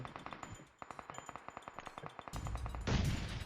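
In PUBG Mobile, a rapid series of sharp gunfire cracks is followed by heavier booming blasts as grenades explode, loud and close.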